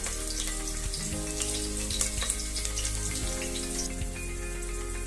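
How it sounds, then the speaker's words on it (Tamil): An ingredient fries in hot oil for white veg pulao, giving a steady, close crackling sizzle that runs through the whole stretch, with faint stirring or pan contact underneath. "இது நல்லா கோல்டன் கலரில் வர அளவுக்கு ஃப்ரை ஆகட்டும்"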